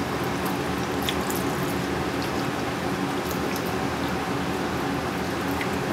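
Two cups of hot water poured steadily into a casserole dish of stuffed cabbage, a continuous close splashing and trickling that holds even throughout with no talk.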